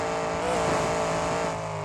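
A monster truck in the Monster Jam Steel Titans 2 video game keeps driving while on fire, its engine a loud, steady, close drone that swells slightly midway, with no voices.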